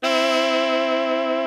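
Sustained guitar note or chord treated with a modulation effect, ringing steadily and fairly loud for over a second with a rich, shimmering harmonic stack and no talking.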